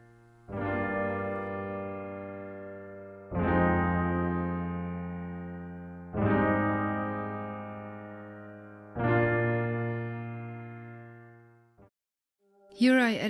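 Piano chords from a lo-fi track, processed with equalizer, low-pass filtering, heavy reverb and stereo widening, ring out four times in slow, evenly spaced swells, each sustaining and decaying softly before a brief final note.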